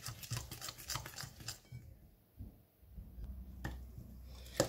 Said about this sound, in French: Donc maintenant on va mélanger.